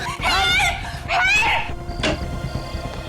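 Panicked people scream for help in a valley in a crime drama scene: two loud, wavering, high-pitched screams, then a shorter sharp cry over a low background.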